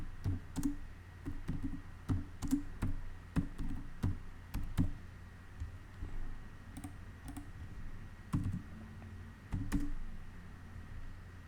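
Quick bursts of clicking keystrokes on a computer keyboard, typed in short irregular runs with brief pauses, close and fairly quiet against a low steady hum, with no voices.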